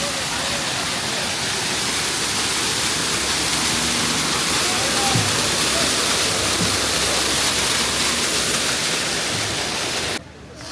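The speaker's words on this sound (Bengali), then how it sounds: "এই যে ঝর্ণা দেখতে পাচ্ছি আমরা এখন" A Himalayan waterfall on the Kedarnath pilgrimage trail roars steadily as a dense, continuous wash of falling water close by, holding an even level before cutting off abruptly near the end.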